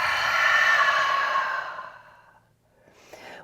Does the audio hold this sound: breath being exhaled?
yes